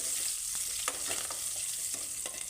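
Close, steady sizzling of mustard-style tempering spices with curry leaves and coriander in hot oil on a gas stove, broken by a few scraping stirs of a spoon in the pan.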